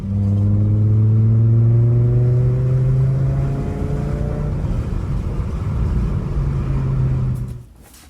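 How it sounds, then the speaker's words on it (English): A car engine revs hard and holds a steady high drone, then the pitch rises gradually before cutting off abruptly, loud and close. "give the car a little Italian tune-up,"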